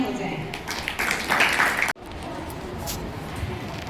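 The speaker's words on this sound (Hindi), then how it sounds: "तो एक बार फिर जोरदार तालियां हो जाएं।" Audience applause at a school academic carnival after a Grade IX Hindi drama performance, a dense wash of clapping through the first half that cuts off abruptly, followed by steadier hall crowd noise.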